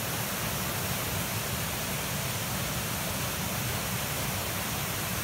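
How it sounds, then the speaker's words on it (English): A waterfall pours into a stone-walled swimming hole, a loud, steady broadband rush that stays constant throughout with no other sounds. "This waterfall"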